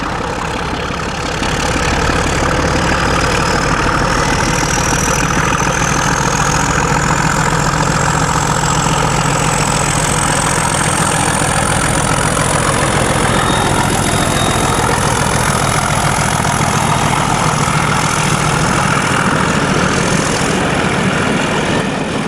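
A loud, heavy Class 31 diesel locomotive engine drones steadily up close as it departs a station, throbbing as it works, with a whining tone rising over it.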